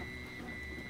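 A homemade printer, the Winter Printer Mark 1, running close by with a continuous whirring mechanical drone and faint ratcheting gear noise.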